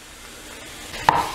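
Ground beef burger meat with seasoning salt fries in a pan, a soft sizzle building into a brief louder clink and hiss from stirring at the end.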